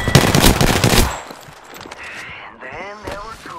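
A loud, close burst of rapid automatic gunfire from Apex Legends cuts off after about a second, followed by quieter game sounds and a voice speaking.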